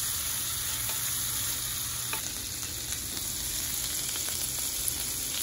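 A sauce mixture is stirred in a frying pan, giving a steady, loud sizzle with soft scraping from the stirring throughout and faint occasional taps.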